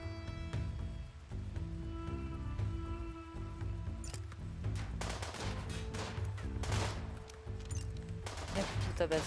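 Rapid bursts of gunfire in the RimWorld colony game, a steady crackling stream of shots over game music, with someone talking throughout.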